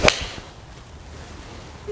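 Game improvement golf iron with heavy offset and a thick top line strikes a ball, giving one sharp, loud, explosive crack at the start, then a quiet outdoor hush.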